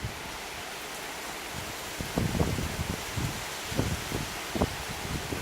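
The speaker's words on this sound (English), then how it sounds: "Getting some good rain though" Steady rain falls during an approaching storm, a constant broad hiss with a few soft, low gusty rumbles mixed in.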